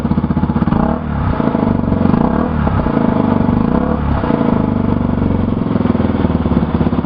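A Yamaha BW200 motorcycle engine idles on choke after a cold start outdoors in freezing weather, a steady, close, loud rapid putter with a slight clattery pulse and no revving.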